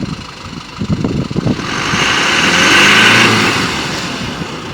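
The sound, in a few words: car engine starting and idling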